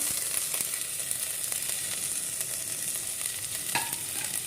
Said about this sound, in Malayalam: എന്നിട്ട് നല്ലപോലെ ഒന്ന് ഇളക്കി കൊടുക്കാം